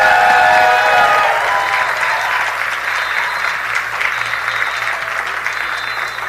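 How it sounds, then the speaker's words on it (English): A large crowd at a Hollywood Walk of Fame ceremony claps steadily and loudly, the applause fading slightly but continuing throughout. "you applauded before I named the media partner"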